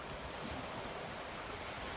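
Ocean shorebreak at Kua Bay, a dense continuous wash of surf and breaking water with some wind buffeting, steady and fairly quiet, no voices.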